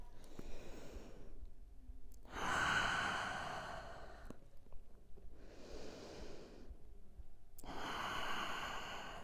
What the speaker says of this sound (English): Take a deep inhale. Exhale through the mouth.